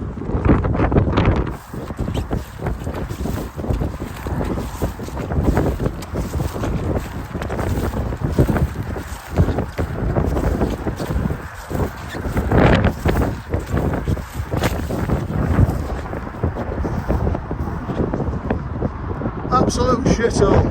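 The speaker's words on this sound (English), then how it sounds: "Windy. Windy!" Heavy wind buffets the microphone on an open moor, a constant loud roaring rumble with gusty surges throughout, and a person's voice comes through now and then beneath the blustering.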